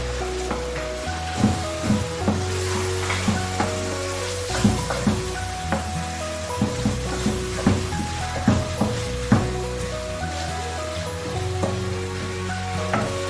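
Chopped tomatoes for dhaba-style chana dal sizzle steadily in a hot pan, with a regular rhythm of stirring scrapes and clanks, loud and close with no talking.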